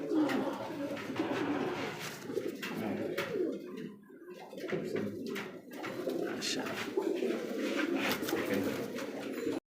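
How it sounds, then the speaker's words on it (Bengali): Large black pigeons coo continuously and close up at a pigeon market, their deep overlapping calls steady throughout. "বিশাল সাইজ আকৃতির মধ্যে কিন্তু একটা কালদম কালদম কবুতর"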